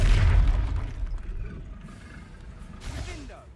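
A Confringo spell blast in the video game Hogwarts Legacy opens with a heavy low boom that rumbles and fades over a few seconds, followed by softer whooshing effects and a brief voice in the background.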